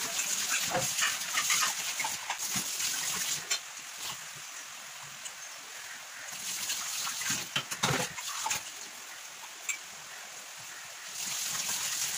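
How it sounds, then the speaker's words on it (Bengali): Dishes and a kadai are scrubbed and rinsed under running water, heard as uneven splashing and clattering in bursts with quieter gaps, fairly soft and close. "বাসন মাজা তো কমপ্লিট হয়ে গিয়েছে"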